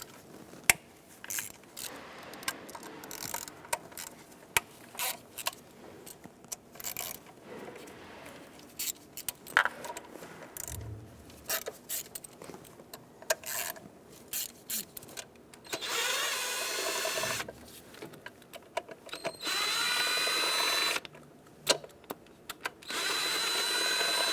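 An E8 inverted Torx socket loosens bolts on a 2011-2020 Dodge Grand Caravan 3.6L, with ratchet clicks, clanks and short power-tool whirring bursts, louder sustained spinning near the end, and no talk.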